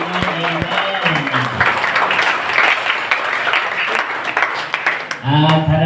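A church congregation claps together in a dense, sustained burst, with voices speaking over the opening moments and again as the clapping fades at the end.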